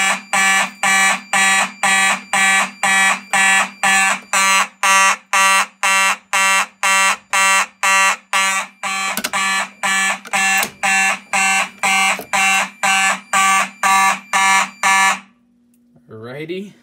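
Simplex mechanical fire alarm horns blare indoors in a home system test, about thirty loud, evenly spaced harsh buzzing blasts in a steady pulse that stop abruptly near the end.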